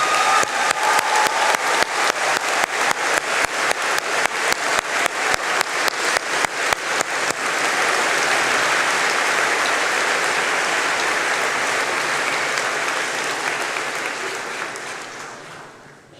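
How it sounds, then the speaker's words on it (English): A large graduation ceremony audience applauds together, starting with a loud rhythmic unison clap for several seconds before dissolving into a sustained wash of clapping that slowly fades out. "please join me in giving yourselves a really big round of applause"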